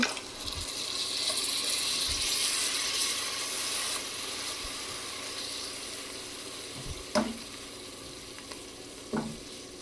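Spice masala of turmeric, coriander powder and panch phoron cooks in oil in a pan after a little water is added, a steady close sizzle with stirring scrapes and a couple of sharp clinks near the end.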